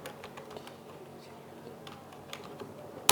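Quiet, rapid computer keyboard typing in irregular bursts of soft clicks, recorded close and alone while code is entered, with one sharper tap at the end.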